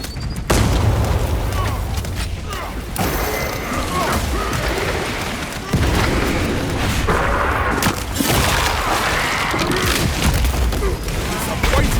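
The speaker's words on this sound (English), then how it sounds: "Shock grenade out!" A shock grenade bursts in Warhammer 40,000 Space Marine 2 during an exfiltration mission, a heavy boom swallowed by a loud, continuous wash of battlefield clatter, mechanical gunfire and shouting voices.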